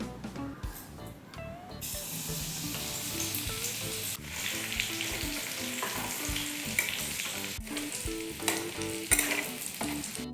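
Crushed garlic sizzles and crackles steadily in hot oil in a wok, with occasional stirring scrapes over a continuous close frying hiss.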